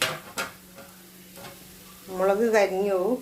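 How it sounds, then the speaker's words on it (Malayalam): Grated coconut fries and is stirred in a hot pan, with sharp scrapes and a steady low sizzle, and a voice speaks briefly near the end. "കുറച്ച് തേങ്ങ വറുത്തിട്ട് ആദ്യം എടുക്കണം."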